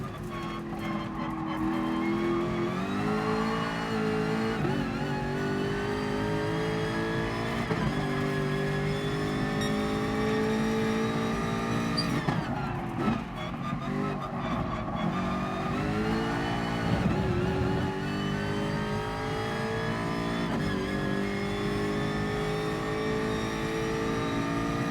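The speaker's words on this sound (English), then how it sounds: "I like the engine sound on this as well." A Jaguar F-Type racing in the video game GT Sport roars through a long stretch of acceleration, its engine droning loudly with repeated rises and falls in pitch between gear shifts, with brief tire noise and no talking.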